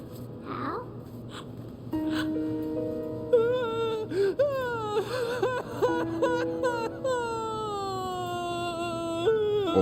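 Dubbed crying from the Metal Gear Solid 2 video game: a voice wails and whimpers in long, wavering sobs with rising and falling pitch, fairly loud and continuous over faint background ambience.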